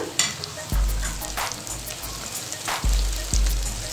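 Tomatoes sizzle and hiss in a hot pan for brinjal biryani, with a few dull thumps and clanks of stirring over the frying noise.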